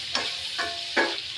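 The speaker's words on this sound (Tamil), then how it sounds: "தக்காளி போட்டு நல்லா வதக்கணும்." Tomatoes sautéed with onions for a dried shrimp sambal, a steady sizzle in the pan broken by three evenly spaced scraping strokes of a spatula.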